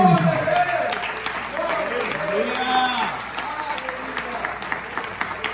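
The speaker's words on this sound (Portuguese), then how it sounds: "Vamos aplaudir a ele." Church congregation applauding during a sermon, a continuous wash of clapping beneath a voice speaking and calling out over the crowd.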